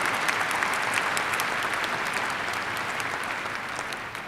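Large commencement ceremony crowd applauding steadily, a thick continuous roar of clapping that fades slightly toward the end, with no speech over it.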